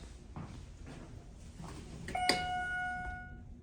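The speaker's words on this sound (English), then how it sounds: "Chime rings when you push the button." A 1992 Schindler elevator chime at a hospital outpatient section sounds once when the call button is pressed, a single clear ding that rings out and slowly fades over quiet background hum.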